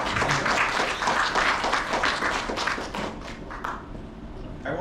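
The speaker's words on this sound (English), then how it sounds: "Ladies and gentlemen, please give applause once again to all of the presenters." An indoor conference audience claps for the presenters in a dense, steady wash of applause that thins and fades away toward the end, with no talking over it.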